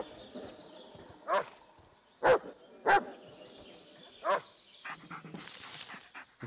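A dog barks in the horror video game Blair Witch, four sharp separate barks spaced about a second apart against quiet ambience, with a brief rustling burst at the end.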